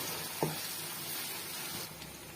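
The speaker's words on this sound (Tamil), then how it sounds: "இப்போ அந்த பேஸ்ட் எல்லாம் போட்டு நல்லா வதக்கிடுங்க" A steady, soft sizzle of ground spice paste frying in a hot pan for paneer butter masala, with a brief clink of a utensil stirring near the start.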